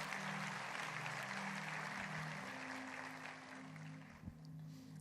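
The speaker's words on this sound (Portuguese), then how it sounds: "dê um lindo aplauso à palavra que nós lemos agora" A church congregation applauds during a worship service, a steady, moderately loud wash of clapping that runs through the whole stretch over low sustained tones, thinning slightly near the end.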